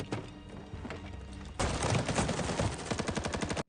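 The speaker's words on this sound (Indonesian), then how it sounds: "tim Carlos langsung menghujani rumah mereka dengan peluru" Film gunfire rains bullets on a house: a quieter stretch of shots, then dense rapid automatic bursts that hold steady and loud before cutting off abruptly.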